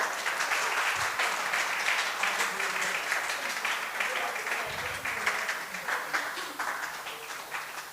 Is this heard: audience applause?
yes